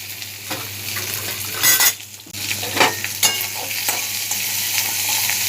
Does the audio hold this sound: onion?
yes